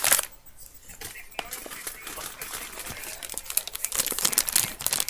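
Cosmetics packaging, including bargain-store cleansers and nail polish, rustles and crinkles in close, busy bursts of plastic handling that grow denser toward the end.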